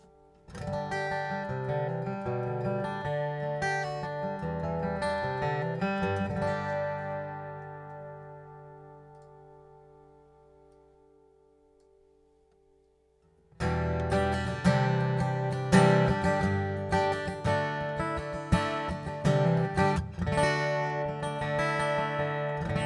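Acoustic guitar strums ring out and fade to near silence, then resume with a fuller, brighter tone from a pickup blend, played alone.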